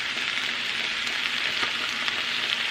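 Chicken pot pie filling fries in olive oil in a cast iron pan, a constant hissing sizzle with tiny spitting pops, close and even, with no voices over it.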